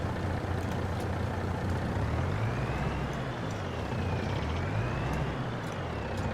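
A semi truck drives in Farming Simulator 22 on the Silverrun Forest map, giving a steady, close engine drone whose pitch rises and falls gently as it moves, with no talking.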